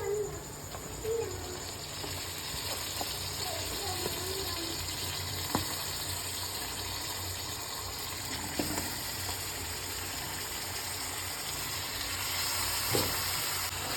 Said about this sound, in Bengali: এবার ভালো করে আমরা চিকেনটাকে কষবো।